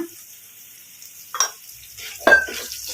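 Curry leaves hitting hot oil with green and dried red chilies in a pan, giving a quiet sizzle with two short bursts of crackle as they land and are stirred.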